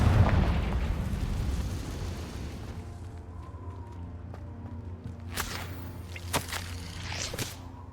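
A Confringo blasting spell in a wizarding video game sets off a heavy booming blast up front, then rumbles away into a low hum with a few sharp crackling pops afterward.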